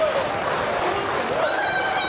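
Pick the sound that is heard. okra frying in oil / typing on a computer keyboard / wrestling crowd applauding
wrestling crowd applauding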